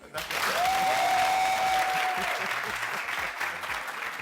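Loud audience applause with steady clapping from a crowd, beginning abruptly and continuing throughout, a faint tone sounding briefly early on.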